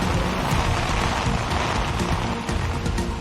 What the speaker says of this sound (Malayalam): ഇപ്പോൾ ഇതാ ശക്തമായ മഴ വീണ്ടും ആരംഭിച്ചിരിക്കുകയാണ്